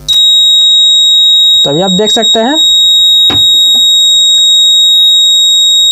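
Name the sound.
buzzer of 220V AC security alarm circuit sounding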